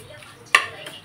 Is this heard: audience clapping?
no